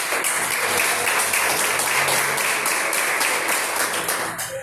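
A church congregation applauds during a sermon, a dense, loud wash of many hands clapping steadily throughout, easing slightly at the very end.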